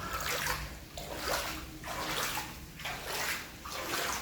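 Water sloshes and splashes in slow repeating surges, a continuous wet churning that rises and falls roughly every second.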